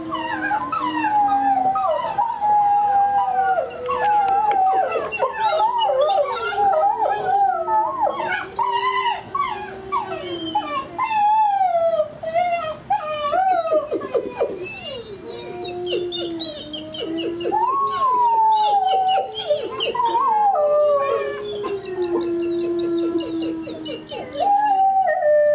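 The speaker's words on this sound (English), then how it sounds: "that's Aiden howling right with Boltz" A dog and wolves howl together in a long, continuous chorus of overlapping, sliding wails, some yips and whimpers mixed in, loud and close throughout.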